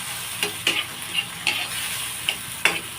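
Argentina corned beef fries in a pan bought from TikTok, with a steady sizzle broken by sharp, regular clicks and scrapes of a spatula stirring it, close up and without voices.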